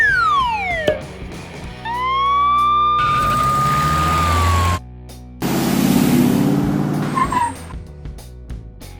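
A cartoonish monster ambulance from a kids' vehicle game sounds its siren in rising and falling wails, broken up by short bursts of noise and bright chiming tones.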